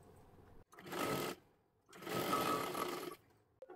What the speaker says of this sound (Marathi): इथे आणि इथे आपल्याला शिलाई करून घ्यायचं आहे